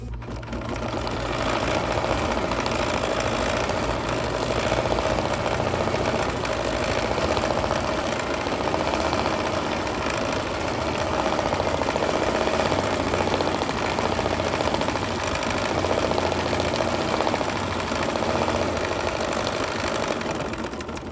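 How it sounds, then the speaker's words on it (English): A sewing machine runs continuously and loudly, stitching a placement stitch on a vintage boardwalk quilt, with a steady motor whir and needle vibration throughout. "now I'm ready to stitch and do my placement stitch"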